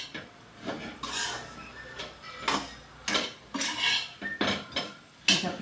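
Crumbled chivda roasts in a pan under a spatula, with close, repeated scraping and clinking stirring strokes in an uneven rhythm and no speech.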